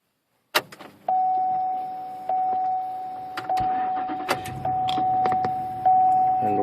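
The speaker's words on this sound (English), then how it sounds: "Go ahead and start the car." A 2004–2008 Pontiac Grand Prix starts up at night: a sharp click of the key, then a steady warning chime tone under light clicks and shuffling inside the car, with the engine faintly settling into idle.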